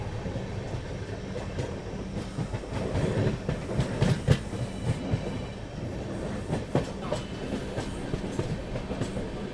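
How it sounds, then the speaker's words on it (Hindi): A train pulls into Dehri on Sone railway station in India, its carriages rumbling and wheels clicking steadily on the rails, with a busy platform din throughout. "Dehri on Son railway station फिलहाल अपनी ट्रेन पहुंच रही है।"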